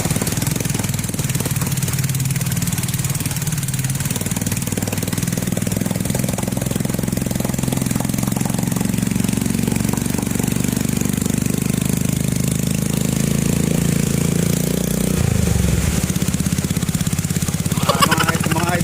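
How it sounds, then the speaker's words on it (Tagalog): A motor tricycle's small engine drones steadily throughout, loud and close, with a rattling rumble as it rides along; muffled voices occasionally under the noise. "nasakay na po tayong tricycle"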